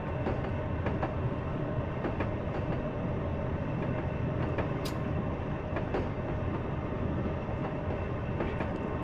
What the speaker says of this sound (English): This is a 6-car train, M2 unit.